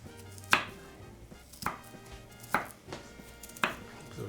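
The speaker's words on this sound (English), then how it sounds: "So just chopping these." A knife chops ingredients for chicken queso on a cutting board in a home kitchen, four sharp, distinct thuds spaced about a second apart, close and clear with no talk.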